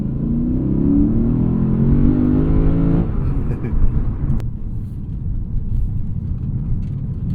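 A 2020 Lexus RC F Track Edition launches from a standstill, its engine roaring loud and rising through the revs for about three seconds, then a gear change and a lower, rougher rumble as it keeps pulling, heard from inside the car.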